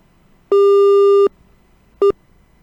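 Telephone busy tone after a dropped phone line connection during a Hindi news broadcast: one long steady tone followed by a short second beep, clear and loud with no talk.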